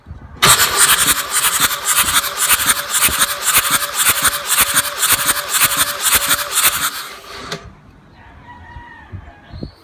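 A Mercedes OM603 diesel engine cranks over on the starter during a compression test on cylinder five, chugging loudly and evenly for about seven seconds before stopping abruptly, leaving a faint background.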